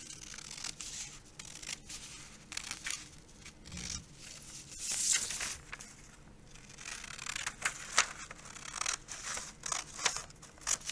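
Scissors snip through paper while a mini art zine is cut into a small maze pattern, a run of quick, close, crisp cuts and rustles repeating unevenly with no talk.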